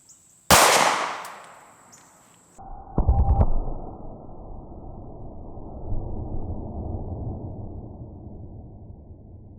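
A subcompact pistol fires hollow point rounds into ballistics gel outdoors: one sharp, loud crack early on, then a second burst of impacts a few seconds later, trailing into a low, rumbling decay and background noise.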